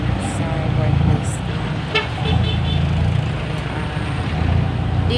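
Road traffic near the provincial capital in Iloilo, with a steady roar of passing cars and a few short car horn toots rising above it, while a voice talks over the scene.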